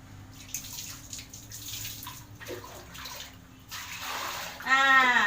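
Water rushing and gurgling from a flushing toilet in a bathroom, a continuous near wash of water that swells toward the end, with faint background voices.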